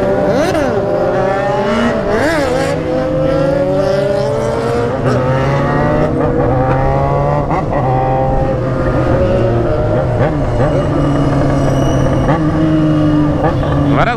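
Several motorcycles including a BMW S1000 revving and riding together at a traffic light, loud continuous engine roar with rising and falling pitch sweeps, close and dense throughout.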